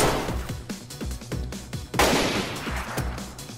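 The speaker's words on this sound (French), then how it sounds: "C'est toi qui tire?" Gunfire in the video game DayZ: a rapid run of sharp gunshots, roughly a dozen in quick succession, loud and close, with a heavier burst midway and no talking.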